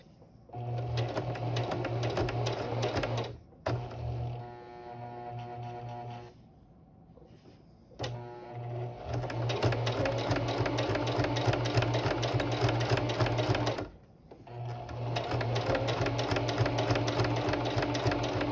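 A sewing machine back-stitches fabric for a Kakashi Hatake jonin vest, its motor whirring in long steady runs with rapid needle chatter, stopping briefly several times, close and loud.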